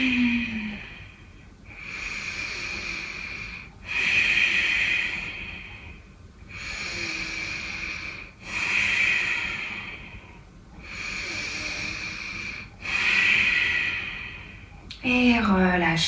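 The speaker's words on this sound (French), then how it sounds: "Comptez 5 respirations en guerrier 1." Deep, slow breaths during a home yoga session held in warrior one pose, several long even inhales and exhales in a steady rhythm, close and clear with no talk over them.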